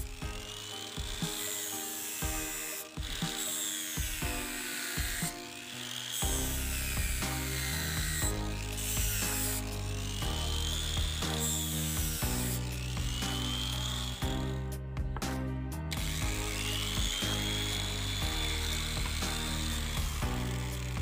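A dimmer-controlled grinder sanding a knife blade whines continuously against the metal, its pitch rising and falling as the blade is worked, with scraping and grinding throughout.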